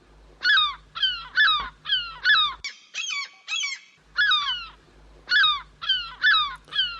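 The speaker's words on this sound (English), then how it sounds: "hearing nothing but seagulls" Gulls calling repeatedly near a ham radio camp, loud harsh squawking cries in quick bursts with a short gap midway, over a low steady hum and no speech.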